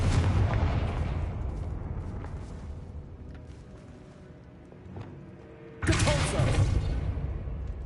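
A Confringo spell blasts in Hogwarts Legacy, a heavy booming explosion that follows a sustained rumble of game noise, loud and close, hitting abruptly near the end.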